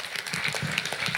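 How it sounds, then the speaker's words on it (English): An audience at a sustainable manufacturing event applauds with dense, steady clapping throughout, moderately loud and even in rhythm. "Let's give him a huge round of applause"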